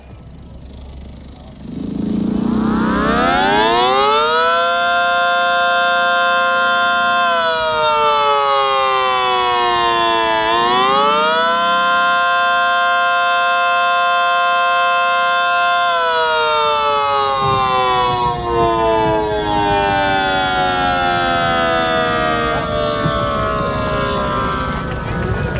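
A Mini Banshee siren winds up loudly with a clear rising wail, dips and rises again, holds a sustained howl, then slowly winds down at a siren convention.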